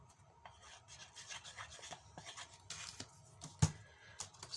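Fingers rub and smooth glued paper lining onto a cardboard gift box, giving a close, soft, continuous rasping scrape with uneven strokes and one sharper tap near the end; no talking.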